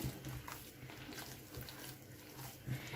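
Water pouring onto corn flour while mixing corn bread dough: a quiet, continuous running-water wash that rises slightly near the end, with no talking.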